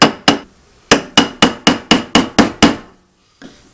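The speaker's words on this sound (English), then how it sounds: "I just tap that with a screwdriver till we get that seated" Sharp, loud taps of a screwdriver seating the fuel pump assembly in the tank of a 2010 Toyota Tundra: two quick knocks, a pause, then a steady run of about eight evenly spaced strikes, with one faint tap after.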